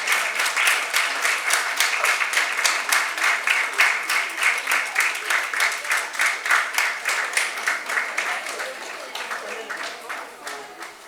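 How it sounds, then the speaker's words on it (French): Steady, rhythmic applause from a studio audience welcoming a female guest onto a television magazine show, moderately loud throughout and slowly fading toward the end. "recevoir avec des applaudissements bien nourris Madame Sacramento Areta"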